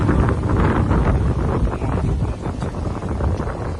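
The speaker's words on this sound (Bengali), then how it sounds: "এই পাশে হচ্ছে এই যে খুব সুন্দর সুন্দর বাতাস।" Wind sweeps across the Someshwari river ghat at Durgapur, Netrokona, below the Garo hills, buffeting the microphone in a loud, continuous rushing roar that swells and eases slightly, with no talking.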